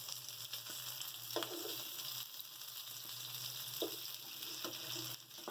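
Chicken shallow frying in oil for chilli chicken, a steady low sizzle throughout with occasional soft pan or utensil taps, no talking.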